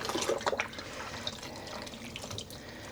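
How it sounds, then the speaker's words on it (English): Dyed yarn, coated in gooey sodium alginate thickener, is rinsed under a running tap. Water rushes and splashes steadily and fairly close, with no voices. "So I am going to rinse this several times to make sure I get all that gooey stuff out."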